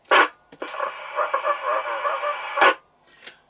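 A crackly transmission from a Duette One Plus One handheld 100mW CB radio, with a burst of static, a voice talking through the hiss, and another short static squelch at the end.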